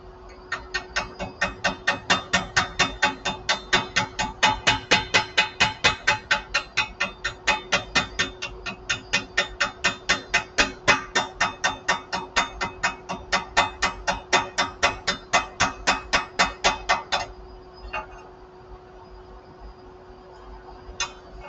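Rapid metallic chipping taps knock slag off a lap weld laid with 3/32 inch 7018 rod, a steady fast rhythm of strikes for about seventeen seconds before stopping, close and clear with no talk.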